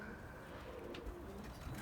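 Male Galaça pigeon, a quiet soft coo over a steady background hum.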